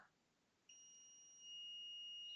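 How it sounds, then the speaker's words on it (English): A digital multimeter in continuity mode with weak batteries emits a faint, thin, steady electronic tone that starts abruptly and holds with a slight rise in level, with no talking. "you hear a beep emitted from your multimeter now and then"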